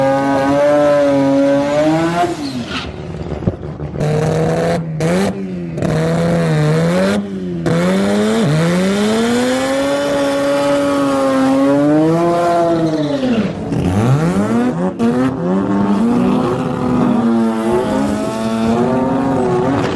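Import cars racing, including a Suzuki Samurai, a Toyota Starlet and a Mazda RX-7, their engines revving hard with rising and falling pitch sweeps through gear changes, loud and continuous with no talking.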